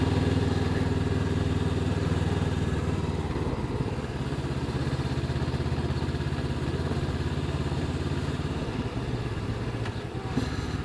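A Honda CB500X's twin-cylinder engine turning over at low revs, a steady, close, throbbing low rumble that shifts slightly in pitch midway, with no talking.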